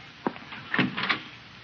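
A house door is opened in an old-time radio comedy scene, with a few short, close clicks and a soft creak over a quiet background.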